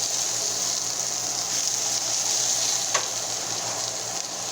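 An omelette frying and browning in a pan, giving a continuous even sizzle up close with one faint clink partway through, no voices.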